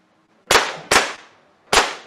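Three sharp gunshots from a recorded art piece of shooting at a pillow, loud, close and dry, spaced unevenly with short decaying tails and quiet between them.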